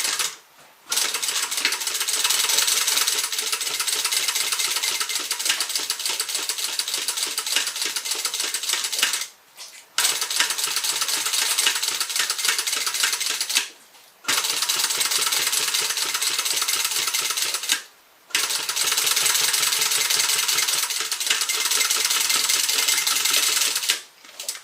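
Sewing machine stitching a zipper onto a tote bag with a 1/4 inch seam allowance, a steady loud mechanical whir in four long runs separated by brief pauses, with no talking.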